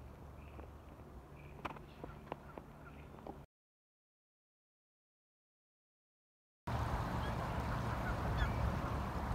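A goose sitting on her nest in a spring river valley gives several faint, distant honks in a quiet outdoor setting, followed by a silent gap and then a louder rush of wind-like noise.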